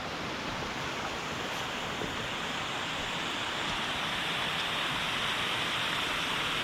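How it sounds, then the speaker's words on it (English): A waterfall on a Smoky Mountains hiking trail, near Rainbow and Grotto Falls, roars as a steady, dense rush of falling water, constant and unbroken. "Whether it's an overlook or a waterfall, it keeps you going."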